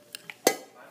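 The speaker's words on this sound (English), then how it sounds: "咁就繼續 stir 佢啦" A homemade sugar and salt body scrub being stirred in a bowl, two light scrapes followed by a sharper clink of the utensil against the container, close and brief.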